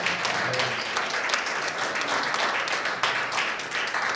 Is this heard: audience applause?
yes